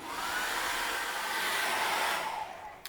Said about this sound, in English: get my hairdryer, check my cameras, and dry that off